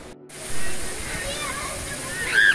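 The Iporanga waterfall gives a steady, broad rush of falling water, with voices and faint bird-like chirps over the roar.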